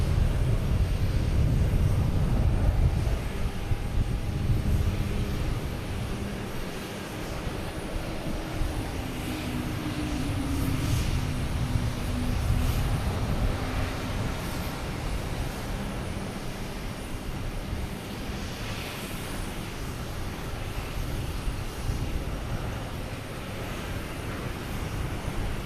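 An American Airlines Embraer E175 lands at Boston Logan, a loud, continuous jet rumble with heavy low-end roar that eases a little then holds steady throughout, no talking over it.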